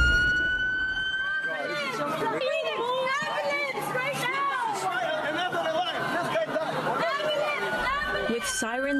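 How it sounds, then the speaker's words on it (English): An ambulance siren wails along a crowded city strip, its rising and falling tone running under loud, overlapping talking voices and street chatter. "With sirens blaring, an ambulance rushes through this crowded strip"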